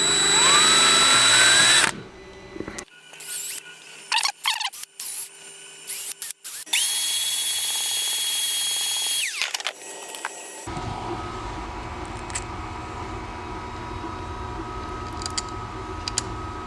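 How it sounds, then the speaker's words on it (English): Power drill boring out holes in 3D-printed parts for a three-cylinder air-powered motor, with several bursts of whining drilling separated by short pauses and handling noise, loud and close. "First I have to drill these holes out a little bit."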